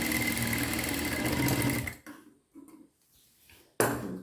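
Close, loud whir of a sewing machine joining lining pieces, running steadily for about two seconds, then stopping, with a few short bursts and clicks before it starts up again.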